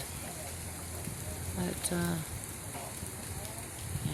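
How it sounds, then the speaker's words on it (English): Steady rain falls outside during a wet, windy North Carolina storm, a dense even hiss of drops that continues throughout while a person talks over it. "and now we got this rain."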